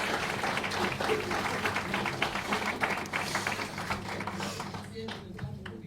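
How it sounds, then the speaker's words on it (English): At a round table on confidentiality and ethics, an audience gives a round of applause for Florence, with uneven clapping of moderate density and a voice talking over it as the clapping thins. "just a round of applause for Florence"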